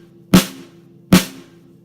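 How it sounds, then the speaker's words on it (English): Two sharp snare drum hits from a drum kit, evenly spaced about a second apart, each a loud crisp crack with a short ringing tail, heard alone and close. "First off, this is a snare drum."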